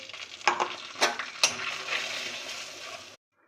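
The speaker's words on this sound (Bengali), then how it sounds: "এবার সবগুলো মশলা আমি এখানে দিয়ে দেবো।" Spices for a mango pickle tip into hot oil with a few sharp clinks and a soft, steady sizzle, close and alone for about three seconds before cutting off.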